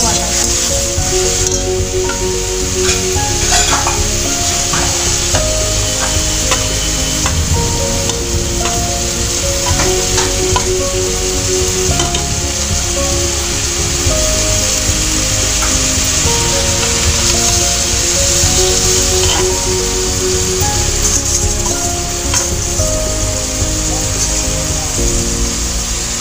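Bottle gourd with poppy seed paste fries loudly in a pan while being stirred, a dense steady sizzle broken by scraping and clinking of the spatula, with faint background sounds.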